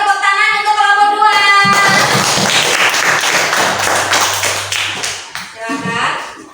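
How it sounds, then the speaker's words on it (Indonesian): Group clapping rises from an audience of teachers at an academic supervision coaching session, welcoming the second group to present. It lasts a few seconds, with voices talking before and after. "Ya, kasih tepuk tangan untuk kelompok 2."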